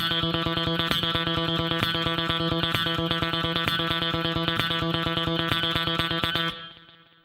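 Electric guitar picking a steady, rapid run of 32nd notes across two measures, evenly spaced and loud with an effects-processed, slightly distorted tone, stopping abruptly near the end as the sound rings off.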